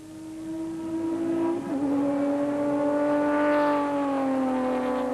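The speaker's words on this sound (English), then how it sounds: "Duncan Voss and Ralph Pitchford, with the fire engine red Sassel Nissan Navara getting the jump, and it's a nose ahead from the off." A red Nissan Navara off-road rally truck from the Magalies 400 launches off the start. Its engine revs loudly, climbs with a brief gear change and sustains a strong, close drone with no voices.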